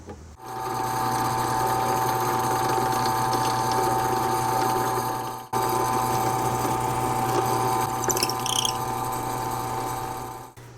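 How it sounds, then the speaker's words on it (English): Drill press running with a 6mm bit, boring neck mounting holes into an electric guitar body: a steady motor hum with a whining tone that cuts out briefly midway, then resumes with light cutting chatter near the end. "I'm just going to put this 6mm bit in the drill press."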